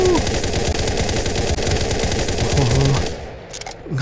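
Rapid automatic gunfire rattles continuously in a video game as the Train Eater is shot, loud and dense for about three seconds before cutting off into a few scattered sounds.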